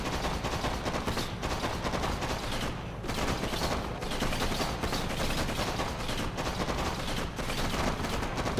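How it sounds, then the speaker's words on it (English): A Jet Tengu fires at a cryocopter in the Red Alert 3 strategy game, loud sustained rapid gunfire bursts with brief gaps, close and dense for the whole stretch. "Now, order your Jet Tengu to destroy that miserable cryocopter."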